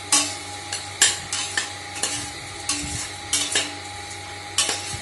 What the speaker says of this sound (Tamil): ஆட் பண்ணி நல்லா மசாலாலாம் வந்து இந்த பச்சை வாசனை போகிற வரைக்கும் கலந்து விட்டுருங்க